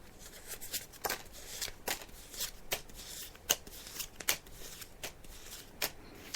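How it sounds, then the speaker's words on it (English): Tarot cards being shuffled by hand, a steady run of crisp riffling bursts and soft slaps repeating every half second or so, close and fairly quiet with no talking. "So I'm just shuffling the cards now, Melissa."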